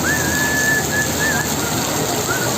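Steady rain in Portugal makes a constant close hiss, while a bird gives a few thin whistling calls over it, one near the start and one near the end.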